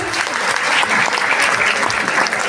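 A crowd at a school annual function at Sarvodaya Vidyalaya in Pitampura bursts into loud, sustained applause, a thick and even wash of clapping with faint crowd noise mixed in, lasting throughout.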